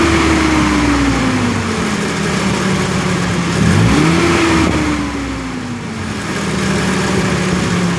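A Nissan D21 truck engine revving up and settling, a loud close engine tone climbing steadily, dipping and surging again near the middle, then easing back toward idle.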